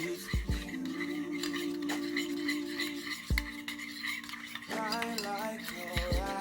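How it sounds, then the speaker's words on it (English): A spoon scrapes and clanks against a pot of seafood boil, giving a few sharp metallic knocks with a low hum in between and a faint tinkly rattle near the end. "Then you just want to stir it up."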